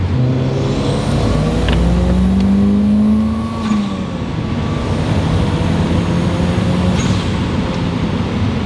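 A Toyota Celica GT-Four rally-bred turbo engine held at full throttle through a corner, a loud steady drone that swells, dips briefly, then keeps pulling with no talk over it.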